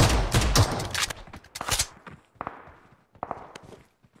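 Rapid gunfire in a mobile shooter game, including a DBS S12K shotgun and a Desert Eagle, with loud clustered bursts at first, then sparser single shots and clatter fading out.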